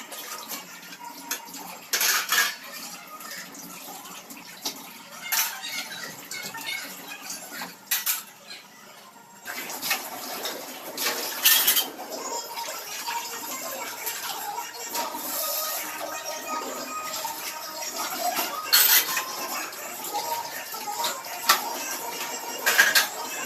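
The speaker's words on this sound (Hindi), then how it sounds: "तो बस मैं बर्तन धोने में लग गई हूँ" Dishes and steel cutlery being washed under a running tap in a home kitchen, with water streaming steadily and spoons and utensils clinking and clattering in repeated bursts throughout, no talking.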